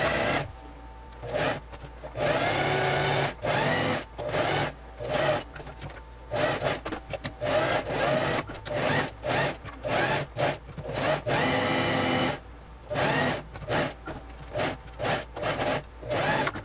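Sewing machine stitching fabric while hemming a pocket on a children's costume, its motor running in steady bursts with short pauses between runs, close and fairly loud with no talking.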